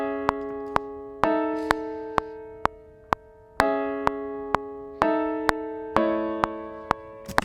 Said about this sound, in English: I'm just going to add that little note on top to create some dissonance